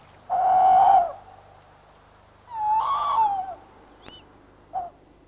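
Tawny owl calls at dusk: two drawn-out hooting notes, followed by a short sharp click and a brief final hoot, close and loud with quiet pauses between.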